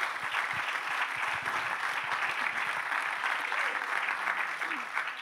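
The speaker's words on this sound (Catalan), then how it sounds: "un aplaudiment pel Damià." An audience at a talk applauds steadily, a dense, even wash of clapping that holds at a constant level for the full five seconds.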